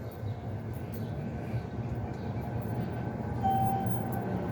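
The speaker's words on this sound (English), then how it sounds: "The next Orange Line train to Forest Hills is now arriving." An MBTA Orange Line subway train rolls into a station, a steady low rumble of wheels and cars building gradually, with a brief tonal squeal near the end.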